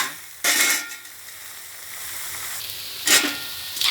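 Sliced young galangal stir-fried with pork loin in curry paste sizzles steadily in a pan, with two sharp bursts of louder hissing as the mix is tossed, close and unaccompanied by talk.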